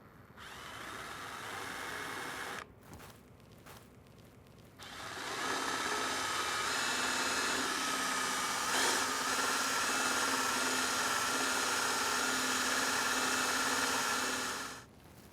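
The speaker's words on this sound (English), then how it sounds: "Now I'll drill from this side to prevent tearing out the grain with the drill bit." A power drill boring through a turned wooden yarn bowl locked in place, a sustained close whine that runs a couple of seconds, pauses with a few knocks, then resumes for a long steady stretch before cutting off.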